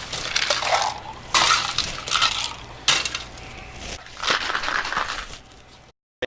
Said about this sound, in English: Gotta add some ice.